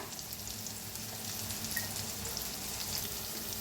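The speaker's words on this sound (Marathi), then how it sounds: "आता याला छान भाजून घेऊया।" Turmeric, red chili powder and coriander powder fry in a pan as a steady, even sizzle with faint crackles, close and unbroken.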